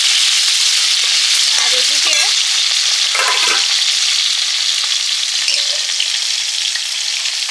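Loud, constant sizzling and crackling of food frying in a pan, with occasional soft scrapes and clatters from stirring.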